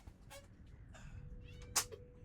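A house cat gives a few soft, short meows close by in a quiet room, with one sharper meow near the end and faint background noise.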